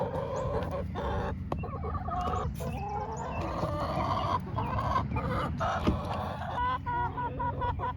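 Chickens at a backyard homestead coop cluck and chatter nearly nonstop in a busy, overlapping flock sound, close by and fairly loud, with no clear talking over them.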